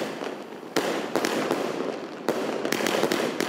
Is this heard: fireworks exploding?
yes